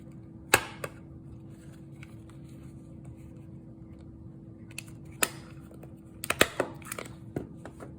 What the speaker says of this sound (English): I'm going to staple, if I can find my stapler